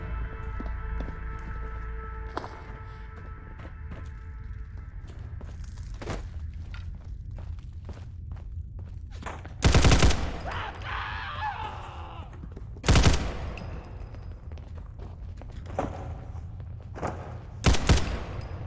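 Gunfire in the Fallout 4 video game: a few sharp, loud shots spaced seconds apart, then a quick closing pair, over a low steady background hum with scattered footsteps and small clicks.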